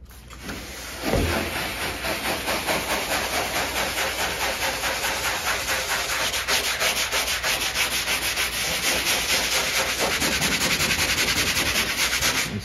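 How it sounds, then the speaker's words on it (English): Steady back-and-forth scrubbing of dirt off the vinyl on a 1966 Buick LeSabre 400, a close, loud rhythmic rubbing that runs continuously after a brief start with no talking. "It's just a matter of scrubbing it off."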